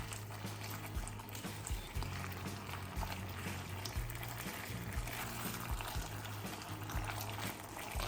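Beef slices simmering in a thickening glossy sauce in a pan, giving a steady close bubbling and sizzling texture with soft low pops throughout, no voices.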